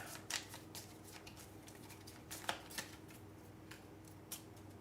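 Cards being shuffled by hand to set turn order in the Astro Knights: Eternity board game: a quiet run of soft riffling and flicking bursts, close and faint, without speech.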